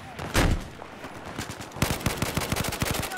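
Rapid automatic gunfire in a Battlefield video game, fired in short bursts; a loud blast early on, then a steady run of close, sharp shots.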